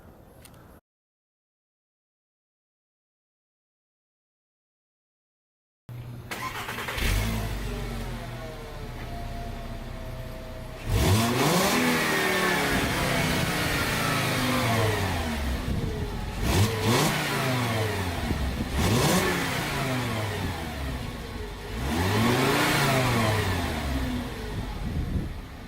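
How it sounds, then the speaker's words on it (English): A car exhaust with the suitcase muffler removed revs loudly and raspily in several sharp bursts that rise and fall. A few quiet seconds of silence come before the revving begins. "So here's a little exhaust clip just to see the comparison of without a suitcase muffler."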